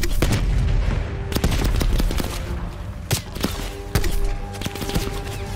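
Gunfire in Call of Duty: Black Ops Cold War, with dense bursts of shots and sharp cracks over a steady rumble of battle noise, with a few louder blasts standing out.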